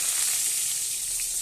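Onion and bay leaves sizzle in hot oil in a wok, a steady, fairly loud, bright hiss held without a break for the whole moment, with no talking.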